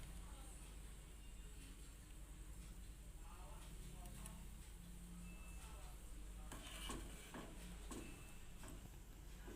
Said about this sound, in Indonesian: Lalu diaduk hingga mengental.